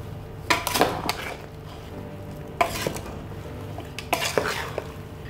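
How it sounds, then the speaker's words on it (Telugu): Mango pickle pieces are mixed with oil in a metal vessel, producing three bursts of scraping and clinking stirring over a faint background hiss, close and with no speech. "ఈ నూనెని వేసుకొని ఇప్పుడు బాగా కలిసిపోయేటట్టు మిక్స్ చేసుకుందాము"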